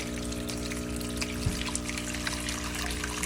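Water trickles and pours steadily from a fish tank through an opened valve, a soft continuous flow over a low background hum, with no voices.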